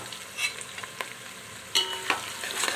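Onions and green chilies fry in a pan for white chicken pulao and are stirred. A soft, constant sizzle runs under a few scraping stirs, close and fairly quiet, with no talking.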